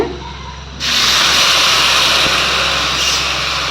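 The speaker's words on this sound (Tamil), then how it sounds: "இந்த டைமில் கீரை வேக வைக்கிறதுக்கான தண்ணி தான் ஊற்ற போறோம்" Water poured into a hot pan of sautéed onions for cooking greens, a sudden loud sizzling hiss that bursts in and then holds steady, close and alone.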